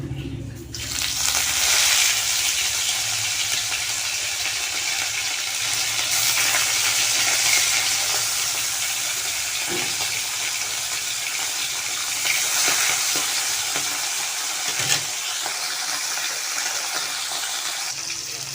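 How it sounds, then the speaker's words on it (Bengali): Parshe fish fry in smoking hot mustard oil in a wok, a loud, dense, continuous sizzle and crackle held steady throughout with no talking. "মাছগুলো ভাজা হতে থাকুক"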